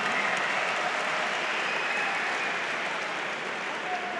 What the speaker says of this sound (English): The crowd goes crazy for Dan Murriata.